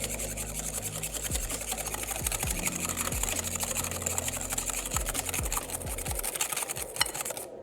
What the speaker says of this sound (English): now we're just whipping up some egg yolks and sugar together